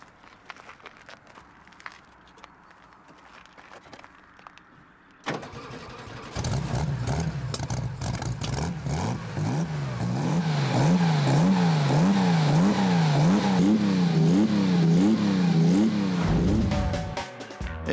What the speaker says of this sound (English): I can start the engine from the back, synchronizing the carburetors